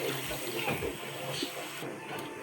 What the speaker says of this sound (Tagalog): So maglagay tayo ng kunting tubig.